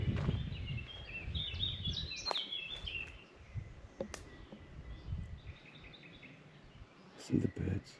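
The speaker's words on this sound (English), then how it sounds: "See the birds." Birds chirp and sing in Mametz Wood, with several light, fairly near calls against soft outdoor rustling and brief handling noises, and no talking.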